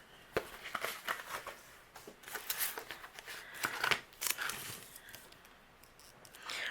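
Crisp rustling, peeling and tapping of foam tape being applied to the back of a cardstock panel for a handmade Independence Day card, a series of close, quiet paper crinkles and sharp ticks with no talking.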